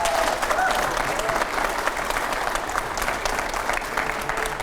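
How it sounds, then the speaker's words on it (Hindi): Loud, continuous applause from a TV news studio audience welcoming a politician, a dense wash of clapping that stays even and strong throughout without pause. "एक बार और जोरदार तालियां हो जाए"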